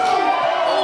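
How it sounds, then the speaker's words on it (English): Wrestling event crowd cheering and chanting loudly for one more, a dense roar of many voices filling the arena. "The crowd's asking for one more"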